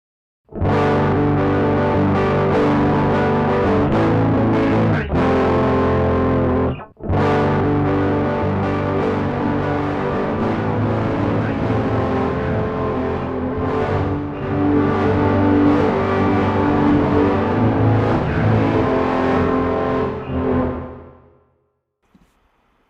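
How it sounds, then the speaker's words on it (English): Fuzz-distorted guitar chords swell through a reverse reverb plugin turned fully wet, so each chord blooms backward into a thick, continuous wash. The loud sound runs steadily with one brief dropout near the middle before it cuts off at the end. "I'll increase the wet until it's fully only the reverse reverb that you're hearing."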